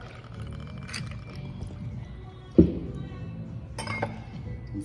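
Crown Royal Apple whisky goes into a glass filled with ice, with a sharp clink followed by a soft pour and faint ice rattle against a quiet background.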